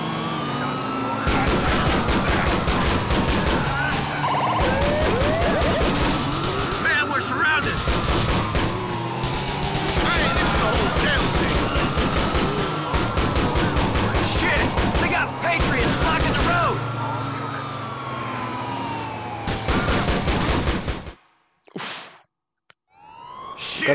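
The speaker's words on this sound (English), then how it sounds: "Shots reported on Grand Boulevard." Rapid bursts of gunfire and wailing police sirens fill a chaotic shootout in the video game GTA IV The Lost and Damned, loud and nearly continuous before cutting to near silence with a few last shots, with voices heard amid the din.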